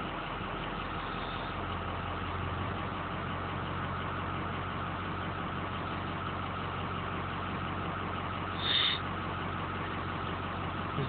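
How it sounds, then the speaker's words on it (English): A small moped carrying two riders at a traffic light gives a continuous engine drone heard from a nearby vehicle. The tone stays fairly even rather than clearly rising, and one brief higher tone stands out near the end. "That's someone on a moped."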